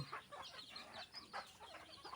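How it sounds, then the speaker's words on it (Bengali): Chickens being fed on a goat farm, giving soft clucks and low calls while they peck at their feed. The sound is faint, near and steady, with no talking. "মুরগিগুলোকে খাবার দিয়ে দিলাম ওরা সবাই খাচ্ছে"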